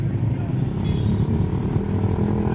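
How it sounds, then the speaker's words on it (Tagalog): Group of motorcycles from Cavite rider clubs passing by on the road, a continuous close engine rumble with a voice talking over it. "dami nila oh, mga nakamotor"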